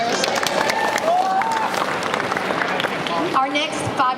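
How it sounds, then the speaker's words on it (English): An audience at the 2019 Liverpool Comic Con costume contest breaks into dense applause and scattered cheers, while a presenter talks over the crowd. "That deserves a round of applause just for getting down the stairs."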